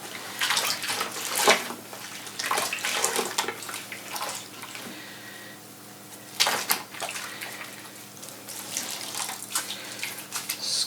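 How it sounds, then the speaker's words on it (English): Rinsed, freshly dyed red, white and blue yarn is squeezed out by hand, giving repeated wet splashes and trickling water in bursts, with a quieter lull midway before more dripping and sloshing. "Squeezing out the water."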